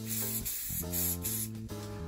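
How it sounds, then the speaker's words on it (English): Hairspray hisses from an aerosol can onto hair set in finger waves, several short bursts at close range, partly under a backing tone of steady music. "I'm going to give that a quick little spray just to sort of take the flyaways out"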